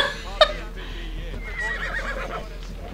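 A horse in Assassin's Creed Odyssey gives a short, sharp neigh early on, followed by softer rustling and movement, with faint speech in the background.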